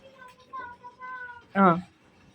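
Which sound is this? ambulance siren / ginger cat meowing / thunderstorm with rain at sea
ginger cat meowing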